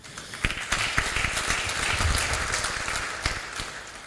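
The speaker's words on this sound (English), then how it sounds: "Another round of applause as he's sitting" Audience at a formal UNFPA ceremony gives a round of applause, a steady burst of clapping with sharp individual claps standing out, tapering slightly toward the end.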